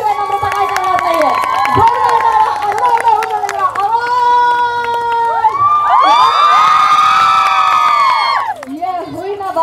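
An audience at a haldi-kumkum gathering cheers loudly for Namrata, with high excited shouts, whoops and clapping that run continuously throughout and swell louder toward the end.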